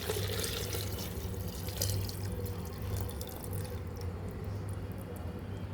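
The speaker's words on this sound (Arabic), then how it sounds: "احتجت مية تاني هزود من مية الليمون اللي اتبقت معايا" Leftover lemon water poured into a jar of lemons being pickled in a home kitchen, a steady continuous splashing and trickling stream lasting several seconds, close by.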